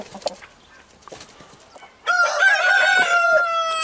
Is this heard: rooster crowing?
yes